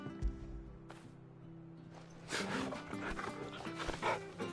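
A dog being petted in the video game Final Fantasy XVI, with soft panting and small whimpers close up, plus faint game sounds under a quiet background.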